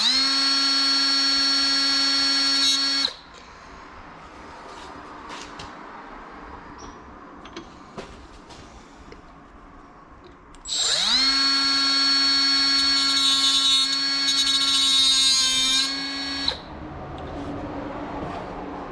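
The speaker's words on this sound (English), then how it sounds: "we're just gonna cut a little tiny notch in it" A high-pitched rotary power tool cuts a small notch in a part while reviving a car that sat for 17 years. There are two loud, steady whining bursts of about three and six seconds, with quieter handling noises between them.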